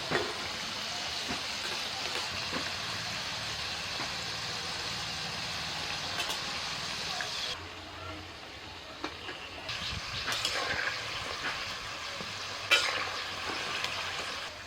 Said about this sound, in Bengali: আমি একটুখানি নাড়াচাড়া করে দিচ্ছি এইভাবে একটু উল্টো পাল্টে দিচ্ছি